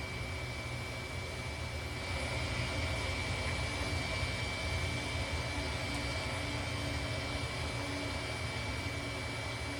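Steady broadband drone of a DHC-3 Otter's engine heard from inside the cabin during descent toward Shetland, a constant loud rumble with a faint tonal whine, continuous and even throughout with no talk.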